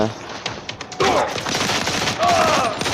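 Rapid automatic gunfire in the mobile shooter game Modern Combat 4: Zero Hour, loud dense bursts that thicken after the first second and carry on to the end, with a voice shouting over the shots.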